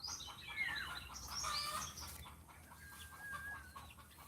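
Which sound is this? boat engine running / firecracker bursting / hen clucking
hen clucking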